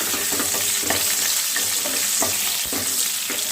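Pieces of pointed gourd (potol) sizzle in hot oil in a loud, close, continuous crackle, punctuated by regular clacks and scrapes as they are stirred, with no voices.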